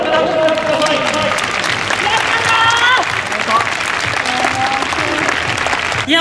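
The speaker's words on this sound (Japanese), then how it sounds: "皆さん大きな拍手をください。" Audience applause at a men's 800m track race, steady and full across the stands for about six seconds, with a voice over a loudspeaker and cheering voices layered on top.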